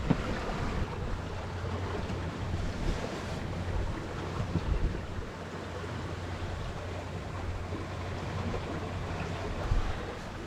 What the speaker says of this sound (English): We've got 17 to 22 knots of wind currently, and yeah, we're making good progress.